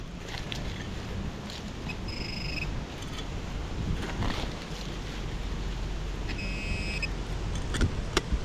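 Heavy wind blows across an outdoor trail during metal detecting, a constant rumbling, buffeting roar over the microphone, with two brief electronic beeping tones rising above it.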